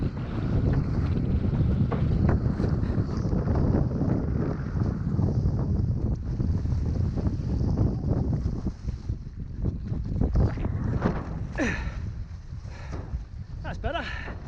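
Steady loud wind buffeting and water rush while windfoiling on an Armstrong 1850 HS foil, continuous and close with gusty surges and some splashes near the end.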